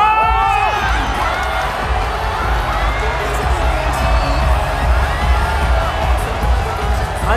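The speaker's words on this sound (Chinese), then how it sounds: "让我们用热烈的掌声有请出 ZK 的王牌打野" A large audience at an esports event cheers and whoops loudly and without a break as a team's star jungler is introduced on stage, a dense roar of voices that stays steady throughout.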